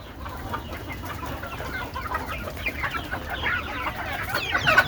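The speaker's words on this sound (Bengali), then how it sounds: "যে দেখেন মুরগি ছাড়তেছে" Hens clucking as they are let out of their enclosure, a busy overlapping chorus of close clucks and squawks that grows livelier toward the end.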